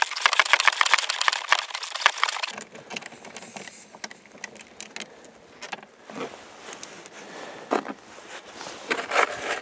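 A 15 mm socket wrench works loose the old secondary sprocket, giving dense metallic rattling and clicking up close for the first seconds, then scattered lighter clinks and handling noises, no talking.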